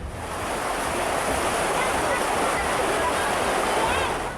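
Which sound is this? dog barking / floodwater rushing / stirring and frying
floodwater rushing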